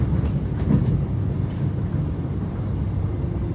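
A short Melbourne Williamstown line shuttle train arriving at Spotswood rumbles steadily from inside the carriage, with a low continuous rolling drone and faint squeals near the start.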